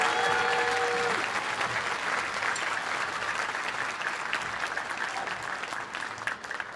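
Audience applause at a school band concert, steady, soft clapping across the hall, with a brief sustained tone fading out at the start.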